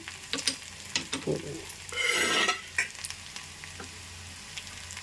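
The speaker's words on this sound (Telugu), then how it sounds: "ఇవన్నీ ఈ రకంగా చక్కగా తాలింపు చేసుకోవాలి చక్కగా ఏగుతుంది చూసారా" Spices and lentils tempering in hot oil, sizzling and crackling close up with scraping stirs and a loud burst of frying in the middle; no talking.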